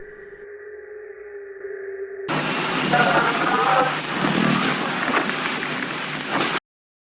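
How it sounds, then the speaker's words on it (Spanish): An eerie, distorted sound from a horror film hypnosis scene: a thin droning tone gives way to a loud, harsh, grainy wash of noise that holds for several seconds before cutting off abruptly. "Entre el sonido, esa distorsión que deja entrever algo macabro"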